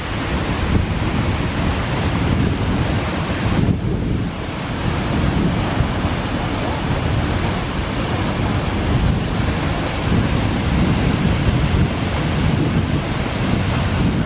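A roughly 196-foot waterfall in Iceland, one you can walk behind, roars steadily at close range as broad, dense rushing water, with wind buffeting and spray hitting the microphone throughout.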